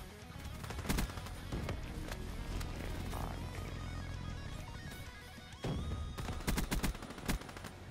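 Automatic gunfire from the PTSA weapon in the video game Black Ops 3, rapid close bursts with a dense clattering mix of shots and game noise, louder bursts near the start and end.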